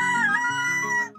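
A rooster crowing sound effect, a single loud, close, drawn-out crow with a bright, harmonic tone that holds steady for about a second before cutting off.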